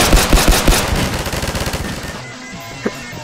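Rapid bursts of automatic fire from a mounted gun in a video game ring out loud and close for about two seconds, then fade, leaving a quieter stretch with one brief sharp pop near the end.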